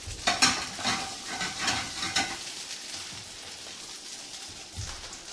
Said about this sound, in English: So let them fry a little bit and then toss them again.